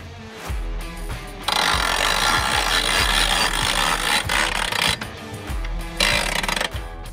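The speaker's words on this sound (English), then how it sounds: "we're going to crank our winch up to remove the slack we had in our cable for transport" Hand-cranked wheel winch on a winch-style ice house being turned to draw its cable tight, a steady grinding, ratcheting mechanical rumble that runs loud and close for several seconds, broken by a few brief pauses.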